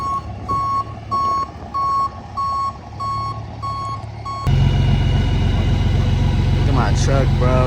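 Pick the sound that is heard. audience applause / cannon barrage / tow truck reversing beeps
tow truck reversing beeps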